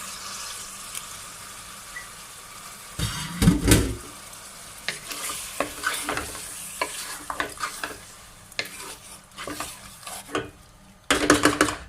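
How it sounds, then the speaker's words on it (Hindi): Hot oil sizzles steadily as chicken fries in a pan with ginger-garlic paste and onions, with bursts of stirring and scraping against the pan throughout. "अभी हम 8 से 10 मिनट के लिए इसको अदरक लहसुन के पेस्ट और प्याज में फ्राई करेंगे।"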